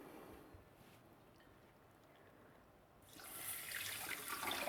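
Water is poured into a pan holding sugar while making suji halwa: quiet at first, then a bright hissing pour rises and continues steadily for the last second or so.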